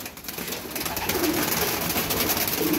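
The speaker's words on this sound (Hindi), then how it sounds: "ये देखें ये भी इंडियन कबूतर है" Indian pigeons cooing in a loft, a steady soft murmur of several birds close by, continuous and unbroken with no voices.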